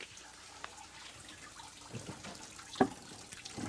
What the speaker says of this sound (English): And the borders then I re-soak into water.